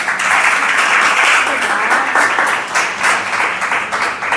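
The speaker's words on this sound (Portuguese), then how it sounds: "Vamos passar umas palmas para o Esdras." A church congregation bursts into sustained, loud applause, a dense wash of many hands clapping that swells and holds for several seconds.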